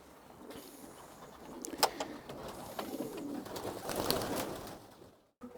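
Long-distance racing pigeons coo softly in a loft, with a few low repeated calls rising and falling over a faint background.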